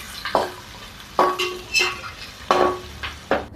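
Garlic, onion and green chilli fry in a pan for homemade gobi fried rice, with soft sizzling broken by several sharp stirring and scraping knocks against the pan, close and fairly loud, with no talking.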